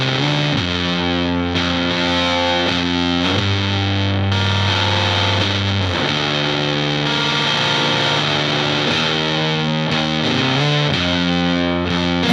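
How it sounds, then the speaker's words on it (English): A heavily distorted, compressed electric guitar plays slow, thick sustained chords with a dark, saturated doom tone. "An ideal application for this is absolutely heavy, compressed doom distortion."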